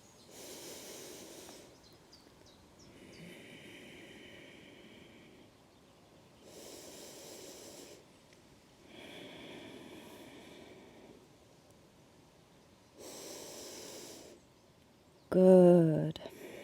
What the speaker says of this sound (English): 3 breaths here.